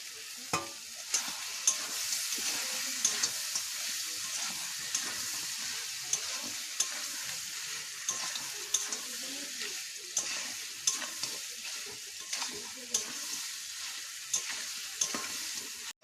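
Duck meat stirred and fried in spices makes a continuous sizzle broken by frequent, regular clicks and scrapes of the spoon against the pan, close and moderately loud, with no talking.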